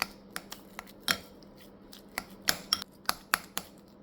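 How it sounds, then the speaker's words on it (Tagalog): Potatoes being mashed with butter in a pot, heard as a series of sharp metallic clinks and taps of the masher against the pan, irregular and close, with no talk. "Lalagyan lang natin ng konting butter. Yun, tapos mash lang natin."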